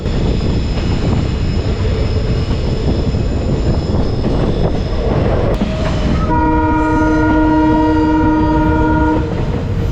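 A train rumbles steadily along the rails through forest on the Kollam–Tenkasi line, loud and close, then its horn blares a long sustained blast over the running noise.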